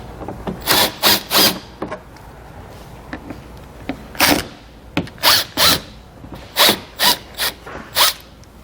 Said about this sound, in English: There's going to be 5 Phillips head screws, so we're going to go ahead and take out.